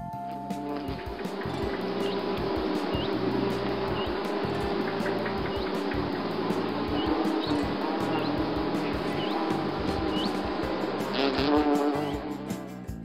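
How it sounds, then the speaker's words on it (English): A wasp buzzes continuously in a loud, close, steady drone that holds throughout with barely any variation. "Wasp."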